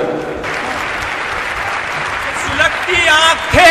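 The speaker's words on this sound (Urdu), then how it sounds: "آپ اپنے لیے خود کے لیے ایک مرتبہ تالی بجا دیجیے" An audience at a large mushaira poetry gathering in Nanded applauds, a dense, steady wash of clapping that runs throughout and swells slightly near the end.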